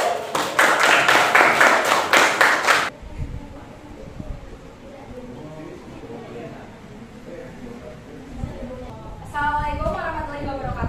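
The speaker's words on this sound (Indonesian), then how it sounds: "Tepuk tangan." A classroom group gives a short burst of hand clapping, dense and fairly loud, which stops abruptly. Quiet room noise and voices follow, and someone speaks near the end.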